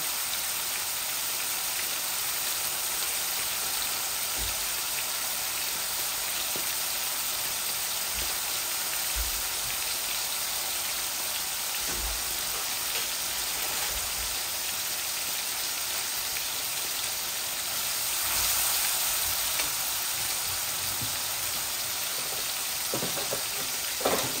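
Spices frying in hot oil in a pan for a chitol fish head and bean seed curry, a steady, close, crackling sizzle with occasional soft pops and no talking.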